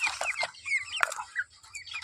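Several chickens cluck in short, irregular bursts close by, with brief quiet gaps between calls.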